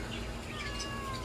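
Cats meow at an animal market in Jeddah, Saudi Arabia, a few faint, thin cries over a steady murmur of market background noise.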